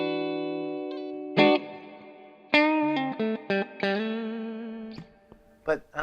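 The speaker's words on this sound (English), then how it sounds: "Here the clean tones are nice." Clean electric guitar tone through an Orange CR120H amplifier, single notes and chords plucked one after another with ringing sustain and a touch of reverb, close and clear.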